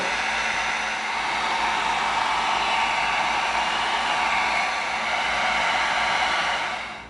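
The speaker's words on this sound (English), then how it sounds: "Now, we heat seal." Heat gun blowing on EVA foam to heat seal it, a steady loud whooshing roar running unbroken for several seconds before tapering off at the end, with no talking.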